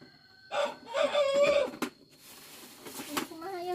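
A rooster crows nearby in one drawn-out call, with other rooster calls and background chatter following at lower volume.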